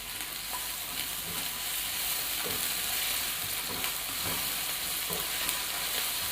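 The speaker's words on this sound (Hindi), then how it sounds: "अब इसमें जाएगा लहसुन अदरक का पेस्ट 1 चम्मच खाने वाला।" Garlic ginger paste fries in a hot pan for macaroni hara masala, giving a steady, close sizzle with occasional stirring scrapes throughout, and no talking.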